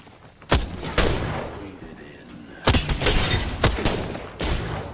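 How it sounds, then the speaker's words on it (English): Gunfire in a sniper video game cracks out as several loud, sharp shots spaced irregularly, with echoing tails and some rumbling booms between them. "I'm spotted, taking fire."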